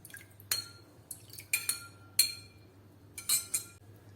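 Vinegar and water stirred in a bowl, heard as sharp spoon clinks against the bowl at irregular intervals, close and distinct over a low background hum.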